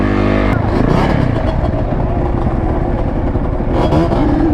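Close and loud, a two-stroke quad's engine revs and buzzes sharply, rising and falling in pitch across several bursts, with someone shouting briefly at the start, at a busy lot.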